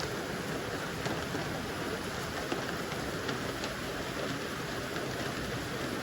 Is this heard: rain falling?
yes